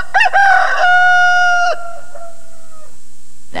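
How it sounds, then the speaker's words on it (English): A rooster crows once, loud and close, in a bright cartoon-style cock-a-doodle-doo with a sustained tonal call that trails off, followed by a low hum and a faint click at the end. "that is a rooster."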